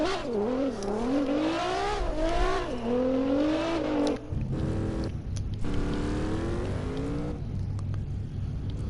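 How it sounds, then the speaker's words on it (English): A drift car engine in the video game CarX Drift Racing Online revs during a drift event, pitch sweeping up and down in wavering swoops, then dropping and climbing again, loud and continuous. "listen to the purr of that car"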